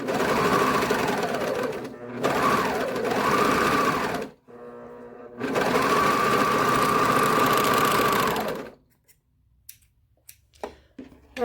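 A serger runs in steady, fast mechanical bursts as it sews the bottom seam of a center-seam facemask, stopping briefly mid-seam and then again near the end before a few faint handling clicks.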